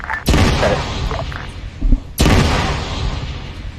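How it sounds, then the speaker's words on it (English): Delayed secondary explosions from an ammunition cook-off in a military video game: two loud, heavy booms with sharp onsets, each followed by a long rumbling decay, plus a smaller thump between them. "We had secondary explosions delayed. Looks like some cook-off, boss."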